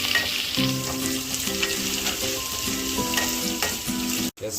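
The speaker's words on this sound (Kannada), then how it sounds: "ಈಗ ಈರುಳ್ಳಿ ಒಂದು ಸ್ವಲ್ಪ ಬ್ರೌನ್ ಆಗೋ ತನಕ, ಅಂದರೆ ಗೋಲ್ಡನ್ ಬ್ರೌನ್ ಬರೋ ತನಕ ಫ್ರೈ ಮಾಡ್ಕೊಳ್ಳಿ" Onions with masala frying toward golden brown for a Karwar-style fish thali, a loud close sizzle with repeated stirring scrapes, a steady tonal sound behind it and a brief dropout near the end.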